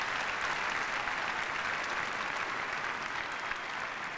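A large audience at a university graduation convocation applauds, producing dense, even clapping that holds steady for the whole stretch without a break.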